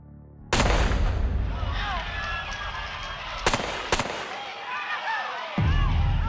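Street gunfire on President Street during a Gallo crew mob attack, heard as sharp muffled bangs like firecrackers: one heavy burst, then two quick cracks mid-scene amid crowd commotion and a rumbling background, then another loud burst at the end.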